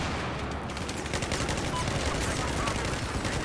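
Gunfire in Battlefield 4 multiplayer comes as rapid, repeated automatic bursts, fairly faint and somewhat distant, over a constant background din.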